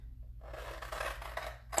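Sharp scissors cutting fabric laid on a board while making a shirt, a short close snipping and scraping rasp that builds and runs continuously for under two seconds with no talking.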